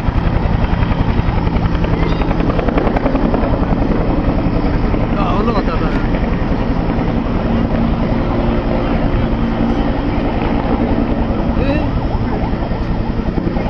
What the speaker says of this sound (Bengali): হেলিকপ্টারটি